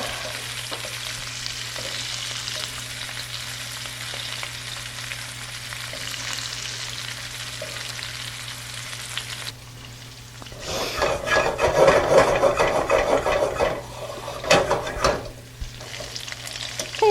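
Meatballs fry in a pan with a steady sizzle, then grow louder and busier as they are turned and stirred around with a utensil.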